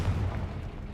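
A Confringo blasting spell cast in Hogwarts Legacy lands as one short, deep, booming blast, heavy and close, fading within a second.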